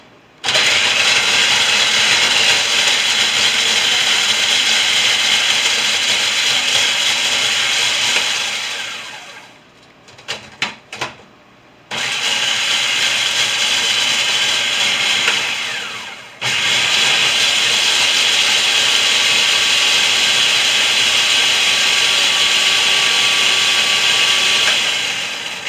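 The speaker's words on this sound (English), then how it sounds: "we're going to blend the crackers and the spices in the food processor" A food processor blends crackers and spices in loud, close bursts of whirring motor noise: a long run of about nine seconds, a few quick pulses, then two more sustained runs, with no talking.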